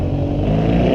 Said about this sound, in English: I think he's rolling up on the R50 right now.